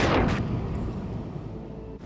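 A loud explosion bursts in Life is Strange: Reunion, a heavy boom at the start that rolls off into a fading rumble over the next couple of seconds.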